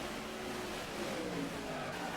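Race car in the NASCAR Inside Line video game with brakes locking up, a sustained engine drone with tire skid noise running continuously, loud and close, no talk.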